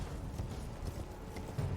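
Horse hooves clip-clop in Elden Ring, a quick run of dull thudding steps over steady background game ambience, with no pause between them.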